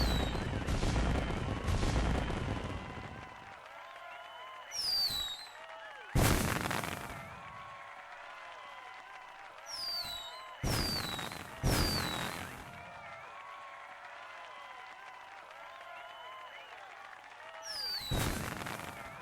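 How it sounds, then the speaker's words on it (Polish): Loud bursts of fireworks in the video game Emily's Holiday Season, popping and crackling in several separate volleys with whistling rises between them, quieter stretches in between. "Piękny pokaz fajerwerków"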